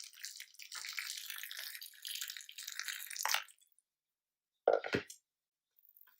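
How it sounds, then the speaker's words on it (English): Freshly boiled water pours from a kettle into a dish of popara with butter, a close, steady splashing stream for about three seconds, then a brief gurgling burst and quiet, with no talking. "now I need to pour boiled water from a kettle"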